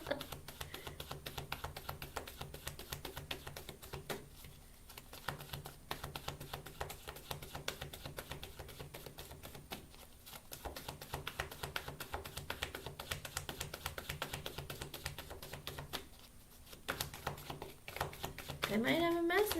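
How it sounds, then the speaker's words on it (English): Tarot cards being shuffled during a live reading, a steady soft riffling and tapping that runs throughout at low level, with talk over it. "but I'm shuffling."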